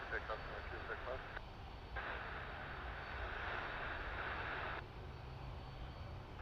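FedEx heavy jet aircraft at Vancouver airport, a distant continuous jet engine roar that swells and holds under radio-style talk throughout.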